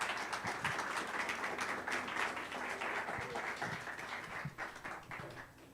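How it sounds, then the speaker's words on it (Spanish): Church congregation giving a strong round of applause during a Spanish-language service, many hands clapping steadily, fading slightly toward the end. "Vamos a darle un fuerte aplauso al Señor"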